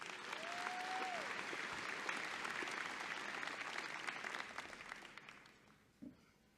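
Audience applause fills a university commencement ceremony hall, sustained and broad, then gradually fading toward the end, where a single sharp thump stands out; a brief rising tone sounds early on.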